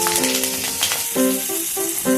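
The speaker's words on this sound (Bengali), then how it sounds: "মাছ ভাজার তেলেই দিয়ে নিলাম কালো জিরে, আর দিয়ে দিলাম চেরা কাঁচা লঙ্কাগুলো।" Black cumin seeds and slit green chillies sizzle in hot oil left from frying pomfret, a soft crackling hiss beneath a louder, steady tonal melody, with no voices.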